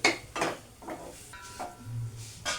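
Lid set onto a cooking pot of poppy seeds with water, a few soft metallic clinks and scrapes of metal on metal, close but quiet, with faint kitchen clatter around it.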